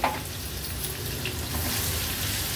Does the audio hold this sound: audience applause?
no